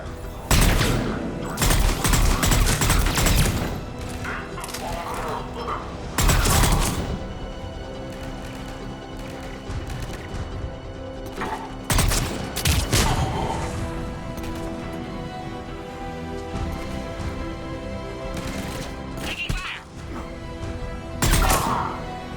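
Gunfire in a firefight at a checkpoint in the video game Mass Effect 3, Cerberus troops attacking Krogan: loud repeated bursts and booming shots in clusters, with quieter stretches of mechanical rumble between them.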